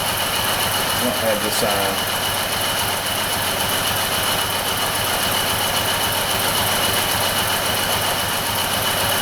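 Jeep Liberty engine running steadily, a constant loud hum and mechanical drone filling the whole stretch, with a voice briefly speaking over it.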